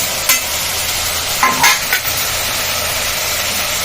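Cucumber curry with tomatoes frying in a pan while being stirred, a steady close sizzle broken by a few short scraping strokes of the spoon and no one speaking.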